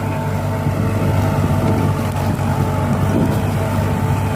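A Ford New Holland 7610 tractor engine runs steadily and loudly up close, a continuous low diesel rumble with a slight flutter throughout and no pauses.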